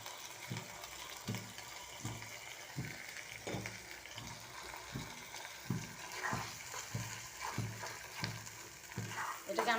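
Chili, dried fish and garlic sizzle in oil in a pan, with a continuous crackling fry and regular scraping strokes of a spoon at a steady rhythm, close and fairly quiet.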